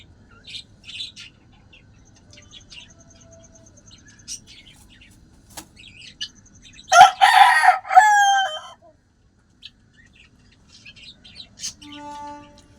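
A country-breed rooster crows loudly once nearby, a strained cock-a-doodle-doo, amid scattered chirps and soft clucking in an otherwise quiet rooftop coop.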